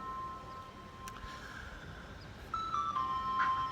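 An ice cream truck passes at a distance, its tinkling chime melody carrying faintly over quiet outdoor ambience and swelling a little louder toward the end.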